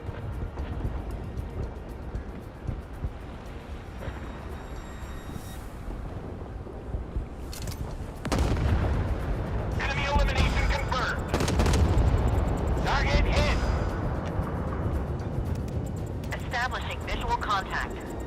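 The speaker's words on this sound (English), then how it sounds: "Fire at will. Do not wait for command." Warship naval guns firing in a video game, a series of heavy booming shots and bursts over wind and engine rumble, with a radio-style voice speaking commands throughout.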